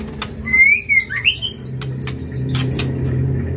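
A long-tailed Bahorok magpie-robin sings from a played recording, giving clear whistled phrases and chirps over a steady low background hum.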